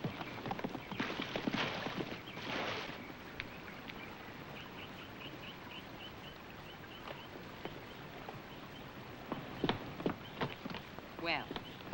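Steady clip-clop of horse hooves, moderately close, with faint chirps and rustling around it and no talking.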